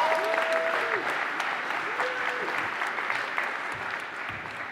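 Audience applause welcoming a guest onto the stage at an art and stories event, continuous clapping slowly easing off, with a voice briefly heard over it.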